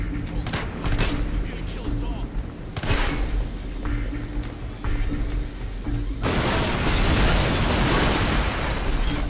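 Gunfire in the violent shooter video game Hatred: rapid bursts and booming blasts pile into a dense, loud barrage that swells into heavier sustained firing and explosions near the end.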